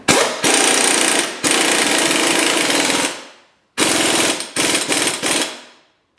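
An impact gun on its lowest setting snugs a front strut nut on a Chevy HHR in loud, close rattling bursts: a short hit, a long run of about a second and a half, a pause, then several shorter bursts, with no talking.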